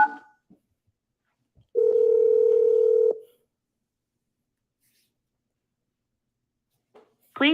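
A phone call dialing back after reaching voicemail, one steady electronic tone lasting about a second and a half in near silence, with brief faint clicks before and after.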